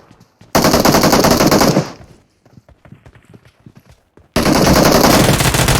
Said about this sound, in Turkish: İkimiz aynı anda vurduk.